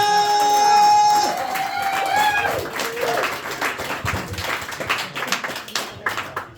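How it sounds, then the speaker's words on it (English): A stand-up comedy audience claps loudly, a dense patter of many hands rising out of a brief musical sting and carrying on steadily to the end. "please start clapping and cheering"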